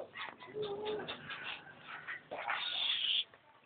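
A pet dog whimpers and makes soft, high whining cries at close range, with bird-like cooing and household noise mixed in and no clear speech.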